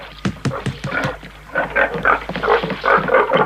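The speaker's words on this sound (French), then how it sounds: "Oh, mon cochon s'est sauvé." A cartoon pig squeals and grunts in a rapid series of sharp, loud bursts, followed by a denser run of strained, rising squeals.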